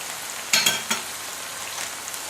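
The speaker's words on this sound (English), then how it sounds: "If you put enough oil, as I said, they should more or less fry from both sides at the same time" Zucchini slices frying in oil give off a steady hiss and crackle, with a few sharper spits and pops breaking in near the start, heard close with no voices.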